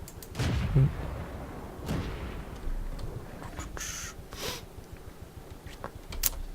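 Tank destroyer cannon shots in World of Tanks, a few heavy booming blasts spaced across the stretch with engine rumble and faint battle noise between, no voices.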